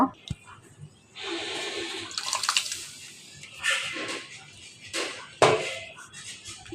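Soaked sago pearls are poured into a pot with bay leaves, cardamom and cinnamon, giving wet splashy bursts and sloshing in several uneven pours, with soft talk over them.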